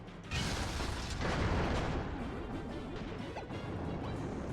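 Smash attack in Kirby's Return to Dream Land, a loud crashing impact followed by a dense clattering burst of hits and debris that slowly fades over several seconds.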